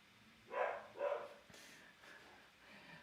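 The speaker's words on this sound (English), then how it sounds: "Dogs." A dog gives two barks in quick succession, moderately loud against a quiet room, followed by a few faint noises.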